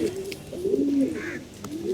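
Pigeons coo nearby in soft, throaty rolling calls, repeated several times over a quiet background, with no talking.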